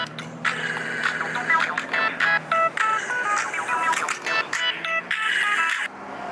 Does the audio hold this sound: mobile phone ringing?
yes